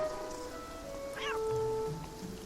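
Steady rain patters in the video game Beyond Eyes under soft tonal music, with a brief high chirping cry rising midway through.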